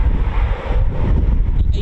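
Strong wind buffets the microphone at the RAF Coningsby airfield, a steady, close, low roaring rumble that continues without a break for the whole stretch.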